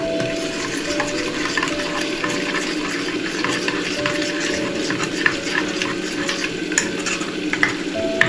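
Coriander powder and biryani masala get stirred into hot oil in a pressure cooker for veg biryani, a continuous sizzle with frequent scrapes and light metallic clinks from the spoon.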